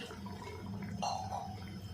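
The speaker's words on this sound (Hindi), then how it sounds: "मटन है तो हम 1 गिलास पानी डालेंगे" A glass of water is poured into mutton in a pressure cooker, a soft, brief splashing pour against low kitchen background noise.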